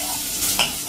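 Sliced onions stirred in a hot pan for a Kerala-style chicken stew, a short burst of sizzling with a scraping stir near the end, close and brief.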